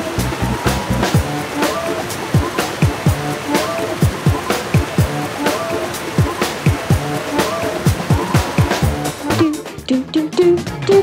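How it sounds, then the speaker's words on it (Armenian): The Sharavati river waterfall cascades in a continuous rushing roar, steady and broad, with a voice speaking over the water. "Շարավատի գետից թափվող ջրվեժն այցելուների կարիք երբեք չի զգում"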